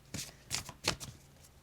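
Oracle cards are pulled out and handled in a few quick papery riffling bursts, close and quiet, with no talking.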